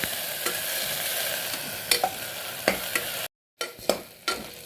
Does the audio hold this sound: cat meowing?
no